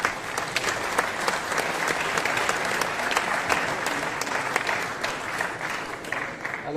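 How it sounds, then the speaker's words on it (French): An audience claps at the opening ceremony of the 22nd FICAM festival in the historic Cinéma Camera venue, with dense, lively applause holding steady and crisp individual claps standing out throughout. "un grand applaudissement"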